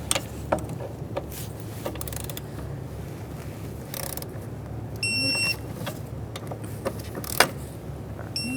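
Ratchet clicks from snugging and torquing the two mounting bolts on the EGR valve bracket of a 2006-2012 Ford Fusion 3.0L V6 come in short, scattered bursts over a steady low hum, close by, with no talking.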